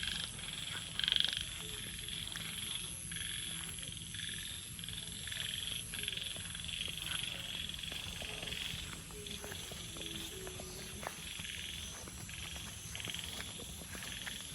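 Many frogs croak in a dense, steady chorus at night in a rural field, with overlapping calls close by and in the distance, and no talking.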